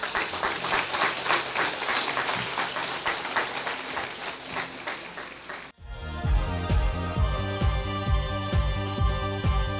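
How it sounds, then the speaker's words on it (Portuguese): Congregation at a church service claps in a dense burst of applause for about six seconds, then the sound cuts abruptly to loud music with a rhythmic beat. "Vamos aplaudi-lo."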